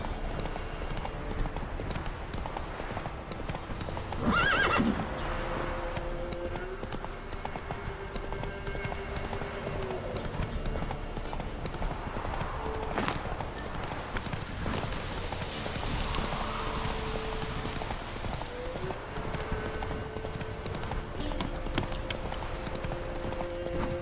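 Roach, the horse in The Witcher 3, gallops with a fast, steady clip-clop of hooves in the middle distance, under rain-like patter and scattered game sounds, with no voices.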